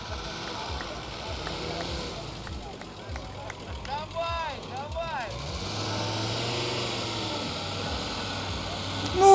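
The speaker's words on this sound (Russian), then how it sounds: "Ну и вот сейчас будет заезд, друзья, двух НИВ." Two Lada Niva cars race at a jeep festival in Brest in 2022. Their engines are faint and distant, rising and falling in pitch as they rev and pass, over a murmur of outdoor background noise.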